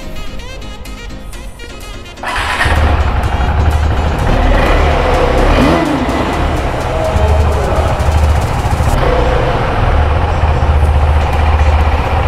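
A KTM Adventure 390 motorcycle with a BS6 engine and a machine-gun-style silencer fires up after a quiet moment. Its loud, close exhaust then holds a steady rumbling idle to the end.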